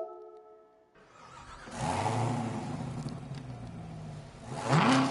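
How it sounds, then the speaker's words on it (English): A car engine in Gran Turismo 7 played in VR revs up, holds at a steady whirring pitch for a few seconds, then rises again louder at the end, alone without talk. "I'm not revving the car, it's doing it automatically."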